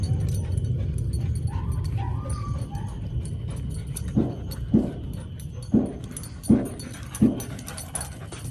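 German Shepherd working-line puppies play together, giving soft whimpers and yips over a steady low rumble, with a run of sharper, louder bursts near the end.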